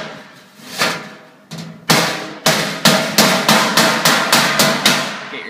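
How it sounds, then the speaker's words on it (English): Hammer taps a plenum side into place by hand, a dozen sharp metallic blows, the first few spaced and softer, then a steady rapid rhythm of strikes close up with no talking. "You're going to insert it by hand, holding it, and we'll take our hammer"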